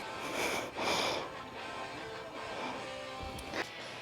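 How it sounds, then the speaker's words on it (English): Heavy breathing into a close microphone after a workout, with several loud rasping breaths and wheezy exhales in an uneven rhythm, no talking. "So I'm heavy breathing into the microphone"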